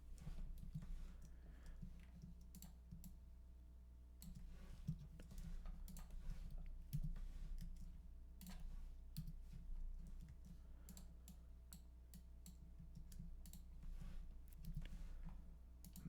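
Computer mouse clicks and keyboard taps while working in Inkscape, a quiet, close, irregular run of sharp clicks spread across the whole stretch over a low steady hum, with no talking.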